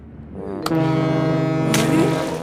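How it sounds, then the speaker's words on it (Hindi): A loud, deep cruise ship horn blast sounds close by in a cartoon and holds steadily for nearly two seconds. "ओह, ये कितना धमाकेदार हॉर्न है।"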